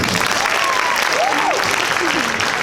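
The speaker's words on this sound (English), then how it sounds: "Another round of applause, please." An audience at an Upward Bound awards banquet applauds continuously, dense steady clapping filling the room while a voice speaks briefly over it.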